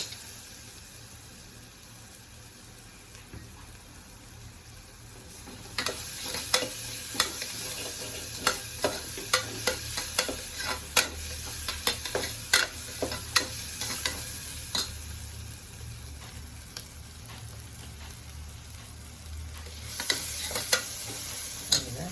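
Onions for a lunchbox dish sautéing in a pan, a soft hiss that swells into louder sizzling with repeated scraping and stirring clicks of a spatula, close and steady, with no voices.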